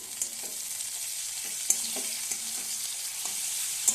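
A medium-sized chopped tomato goes into chicken curry frying in a pan. A steady, close sizzle runs throughout, broken by several sharp clinks and scrapes from stirring, with no voices.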